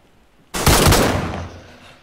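Gunfire in the survival video game DayZ: one sudden loud shot or short burst erupts and rings out, then fades over about a second and a half, with no talking.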